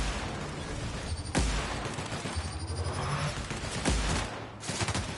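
A plasma rifle in the video game The Outer Worlds fires a few sharp, spaced shots that crack out over a dense, noisy wash of battle sound.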